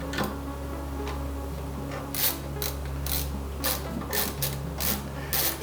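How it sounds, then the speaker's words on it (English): Screws are driven by hand into Prusa MK4 3D printer parts, a close series of quick ratcheting clicks coming in short repeated bursts over a faint steady hum. "Okay, so now we're just putting the screws in it."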